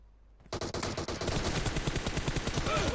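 Gunfire in a video game team deathmatch, shotgun among the weapons, bursts in after a quiet start and keeps up as a rapid, loud, continuous stream of shots close by.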